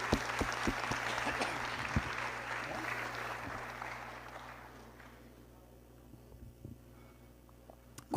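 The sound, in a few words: congregation applause for God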